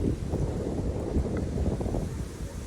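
Strong outdoor wind buffets the microphone with a constant, loud low rumble and roar that never lets up.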